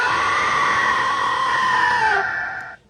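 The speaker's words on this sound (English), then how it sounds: "That is basically one scream cranked up a little bit, transposed and gone through some of the some of the amps" A single scream from a song, pitch-transposed, cranked up and run through guitar amps, rings out as a long sustained distorted wail that bends downward and cuts off near the end.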